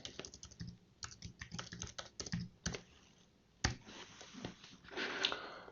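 Password being typed on a computer keyboard: irregular bursts of quick, close key clicks with short pauses between groups, a denser flurry of keystrokes near the end.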